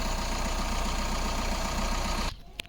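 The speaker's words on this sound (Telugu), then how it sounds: "ఇంజన్ కూడా సౌండ్ కూడా చూసుకోవచ్చు." A 2016 Maruti Ertiga ZDI+ diesel engine idles steadily and loudly up close, a continuous even rumble that cuts off abruptly near the end, leaving near silence with a single faint click.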